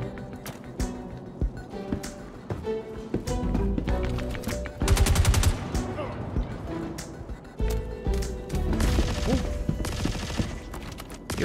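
Rapid gunfire bursts in the video game Star Citizen during a multicrew firefight, crackling volleys and machine-gun rattles layered over game effects and music, with players talking over the shooting.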